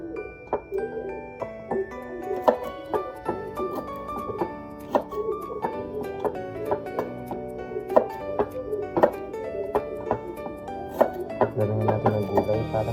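A knife trims the two ends off vegetables on a cutting board while sinigang na baboy is being prepared, giving a run of sharp, fairly close chops over steady background music.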